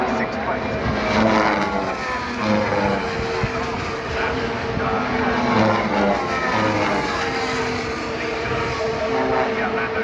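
Formula 1 race cars at Silverstone roar past with loud, sustained engine whine and rising and falling pitch, continuous across the whole stretch, with a commentator talking over them throughout.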